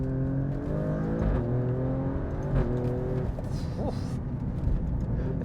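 A 2020 Alfa Romeo Stelvio Quadrifoglio accelerates hard in manual mode, its engine note climbing steadily through the revs with a brief shift break before pulling again, loud and close inside the cabin.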